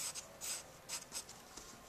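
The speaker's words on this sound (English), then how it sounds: "I'm going to continue to use this pencil," An HB pencil hatching lines on paper makes soft, quiet scratching strokes in a rapid, uneven rhythm of short bursts, close up and alone.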